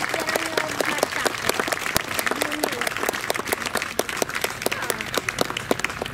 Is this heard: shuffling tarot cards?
no